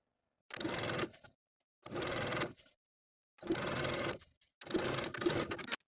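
A sewing machine edge stitches binding around a garment armhole in four short, close runs, each lasting under a second, with silent pauses between them and no talk.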